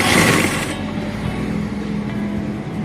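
A sewing machine stitching kurti fabric runs with a continuous mechanical whir, louder for the first moment and then settling into an even, close drone.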